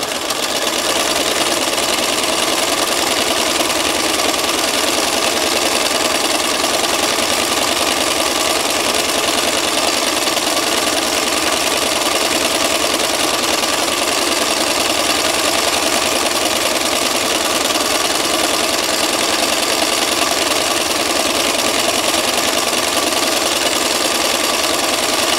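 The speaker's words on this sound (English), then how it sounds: "the denim likes to stick to the bed of the machine" A sewing machine runs continuously up close, stitching through denim with a fast, steady mechanical whir and rattle that holds an even level for the whole stretch with no voices.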